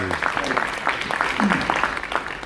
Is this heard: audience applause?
yes